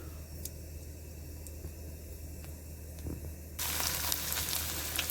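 Cumin seeds roasting in a hot pan make a steady, faint sizzle that jumps to a louder, denser frying hiss partway through when ginger is added. No one speaks.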